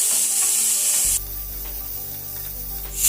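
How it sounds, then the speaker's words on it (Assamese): Tomatoes frying in a little oil in a pan while cooking a simple mutton gravy: a loud bright sizzle for the first second, then a quieter hiss under a low steady hum, with the sizzle rising again at the end. "এতিয়া মই এই বিলাহীখিনিও অকণমান ভাজি ল'ম।"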